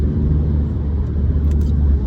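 Steady low rumble of a car's interior while driving, road and engine noise constant throughout; a few faint light knocks from a water bottle banging around barely stand out.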